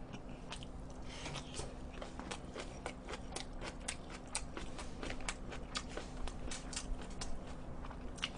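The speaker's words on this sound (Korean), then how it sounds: "백김치 아삭 아삭." Crunchy white kimchi is chewed close to a microphone, with crisp, rapid bites and crunches repeating irregularly over a low steady hum, loud and continuous throughout.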